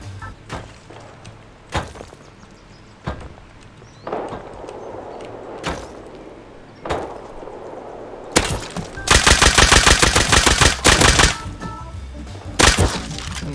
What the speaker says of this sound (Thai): ผมพยายามเดินหาตามเสียงปืนที่มันดังนะครับผม